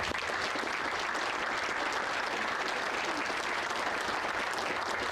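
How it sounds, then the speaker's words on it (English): A crowd claps steadily and densely for soldiers on a cavalry parade field at an infantry division change of responsibility ceremony, a continuous wash of applause with no breaks. "please, another round of applause for these outstanding soldiers standing on the field today"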